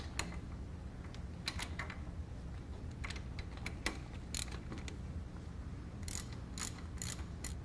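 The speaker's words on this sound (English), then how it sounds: "Then I'm going to get access with it as standard ratchet instead of my impact gun." A hand ratchet turning a hub bearing bolt on a 2002 Chevy Suburban, quick clicking pawl strokes in short bursts, close up and fairly faint over a low background hum.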